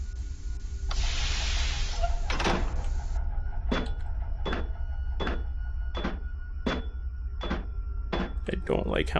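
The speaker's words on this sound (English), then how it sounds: "I'm gonna keep closing doors behind me." Heavy metal doors in the horror game SCP: Containment Breach: a hiss, then a series of about eight sharp, evenly spaced clanks as doors slam shut one after another, fairly close, over a low steady hum.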